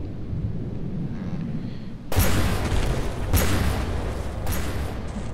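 Eight 6-inch guns on a 60-meter light cruiser firing in From the Depths, heard as three heavy booming reports about a second apart, breaking in loud over a low steady rumble.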